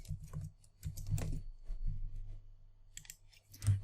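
Quiet, irregular tapping of a computer keyboard as a word is typed, soft clicks in short bursts with brief pauses between them.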